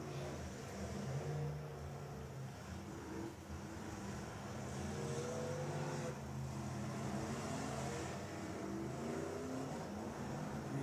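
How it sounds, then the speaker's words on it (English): A stalled demolition derby car's motor is cranked and fired up again, a steady rough engine drone with wavering tones mixed into the constant noise of the arena crowd and other engines. "He's trying to get his motor fired up again."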